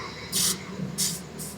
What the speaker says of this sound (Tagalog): spray natin